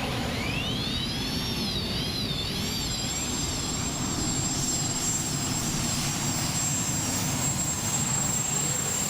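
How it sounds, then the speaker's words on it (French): A tractor-pulling machine's turbines spin up one after another with a rising, warbling jet whine and a steady high-pitched tone over a heavy, continuous engine roar at a motorsport event. "une génératrice qui va produire de l'électricité en masse et qui va venir démarrer les turbines les unes après les autres."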